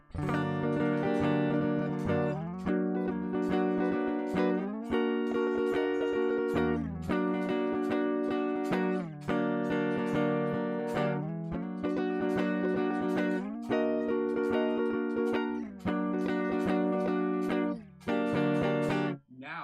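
Electric guitar strums inside chord voicings up the fretboard, loud sustained chords in a steady repeating rhythm of about seven phrases, alone with no voices.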